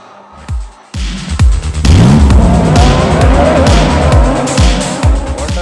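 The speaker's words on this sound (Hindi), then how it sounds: "Forza Horizon 5 मतलब ultimate game for this kind of setup" Racing cars in Forza Horizon 5 played on a driving simulator rig: loud, close engine roar with repeated rising gear-shift sweeps and tire squeal, continuous with no talk.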